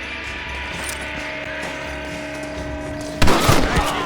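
A single sharp gunshot in the video game Red Dead Redemption rings out loud and close after a stretch of quieter ambient game sound and music, followed by a brief decaying echo.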